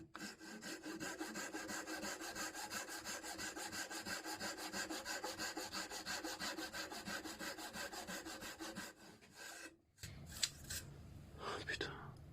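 A hand saw rasps through wood in steady, rapid back-and-forth strokes, close up, cutting dovetails for a workbench, then stops abruptly as a voice murmurs briefly.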